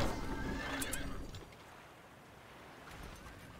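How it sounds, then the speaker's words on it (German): A horse whinnies loudly near the start in the video game Battle for Middle-earth, with hoofbeat clatter under it, then the sound fades into a quieter wash of battlefield ambience. "Ja, Aragorn auf dem Pferd"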